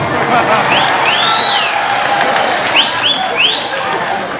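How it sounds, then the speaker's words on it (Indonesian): A loud crowd at an Isra Mi'raj religious gathering applauds and cheers, joined by high whistles and whoops rising above the steady roar. "Tepuk tangan atusnya."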